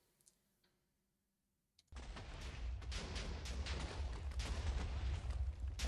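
Meteor shower explosions in Minecraft: after near silence, a dense, continuous barrage of crackling, popping blasts starts abruptly and keeps rumbling at steady loudness.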